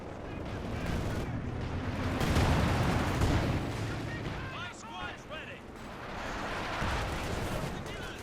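Grenade blasts and battle fire from the strategy game Company of Heroes 2, deep rumbling explosions and crackling gunfire swelling and fading over several seconds beneath a commentator's voice.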